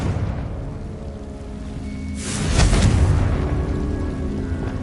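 A Confringo fire-blast spell exploding in a Harry Potter video game: a deep rumbling boom swells up midway over a steady ambient hum and lingers as a sustained roar.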